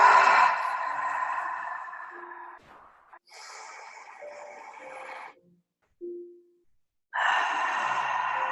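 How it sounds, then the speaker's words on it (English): During a guided meditation, two slow, deep breaths are drawn and released close by, each a long soft rush of air separated by quiet pauses. "Take 2 deep breaths."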